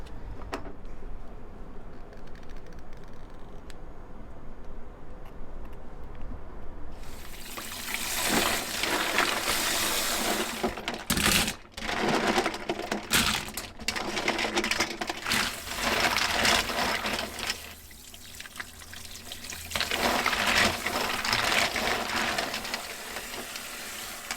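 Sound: rinsing cleaned mussels under running tap water

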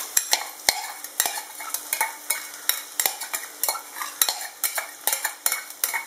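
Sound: chopped onions frying and being stirred in pan

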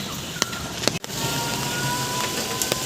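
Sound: rain falling steadily

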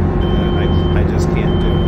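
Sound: flight simulator helicopter engine at maxed-out throttle, video game

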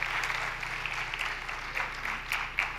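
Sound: audience applause at a talk

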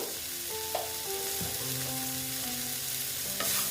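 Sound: spices being stirred in a frying pan

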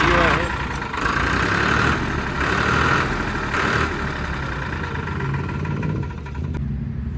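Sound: Farmtrac 60 tractor engine idling

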